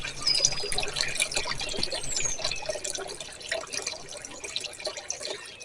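Water trickles and splashes from a homemade decorative fountain built from an old hand pump, a faint, uneven bubbling with small drips throughout and no talking.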